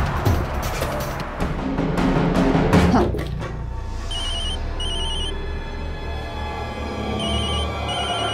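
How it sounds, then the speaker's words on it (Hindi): A mobile phone rings with a repeated electronic ringtone in short, evenly spaced bursts, heard in a drama scene after a stretch of louder noise and movement. "अरे कब से तेरा फोन बज रहा है?"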